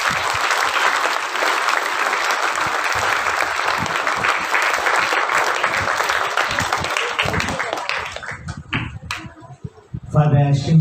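A big crowd at a Josephite festival applauds loudly to welcome a guest, a Reverend Father Provincial, the dense clapping sustained for several seconds before thinning out, with a voice coming in at the end.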